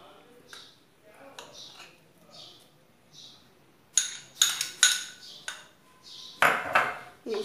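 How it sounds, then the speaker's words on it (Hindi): Mango pulp is stirred into firni with a spoon in a metal dish, first soft slow scrapes, then a run of bright clinks and pings as the spoon strikes the vessel's sides, close and fairly loud. "इसे अच्छे से मिक्स कर लेती हूँ।"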